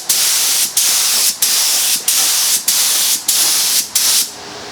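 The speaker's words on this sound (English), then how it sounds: "we seal it, so it gets another coat of sealer" Spray bursts of sealer coat an antique Singer treadle sewing machine cabinet, seven loud hissing passes of about half a second each, separated by short pauses.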